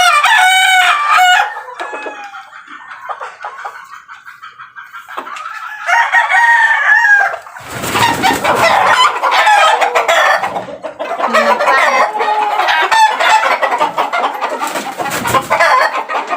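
A stag rooster being fed breeder pellets clucks close by, then gives several loud, drawn-out crows that dominate the scene, with no talk.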